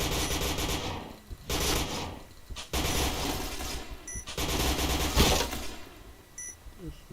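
Bursts of gunfire from the video game Point Blank during a bomb-defusal round, dense and loud in several stretches, with brief gaps between volleys and a few sharp game alert tones.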